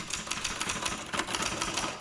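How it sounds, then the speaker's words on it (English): Typewriter sound effect: a steady run of rapid, light mechanical clicks and clacks for about two seconds, fairly faint with a busy hiss behind it. "do we have the sound effect of an actual typewriter?"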